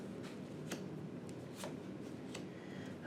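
A deck of tarot cards being shuffled, giving quiet papery riffles and soft flicks in a few separate bursts, close but faint against a low background hum.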